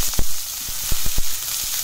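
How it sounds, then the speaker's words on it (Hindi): Curry leaves and chopped onion fry in a pan with a bright, loud hiss, punctuated by several short thumps and scrapes as a spoon stirs them. "और 10 से 15 करी लीव्स और प्याज कटा हुआ, इनको करेंगे मिक्स।"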